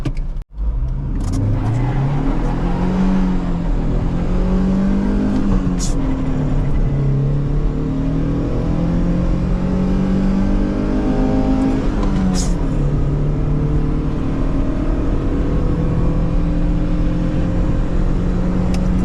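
A Daewoo Lanos running a 1.6 engine swapped in from a 1.3 Sens revs and accelerates hard on a wet road, its loud engine note climbing through the gears in rising sweeps with brief dips at each shift.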